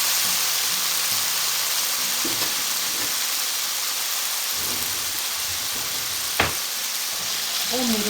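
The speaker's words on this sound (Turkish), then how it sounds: "Onları burada çıtır çıtır olana kadar kızartacağım." Steady crackling sizzle of potatoes frying in hot oil until crisp, a dense hiss throughout with a few faint bumps and clicks.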